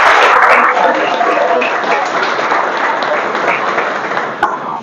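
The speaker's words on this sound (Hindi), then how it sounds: "लिए जोरदार तालियों से स्वागत चाहूंगा।" An audience at an event for an MPPSC topper breaks into sustained applause, a dense wash of clapping that starts strong and slowly tapers over a few seconds, with no talk over it.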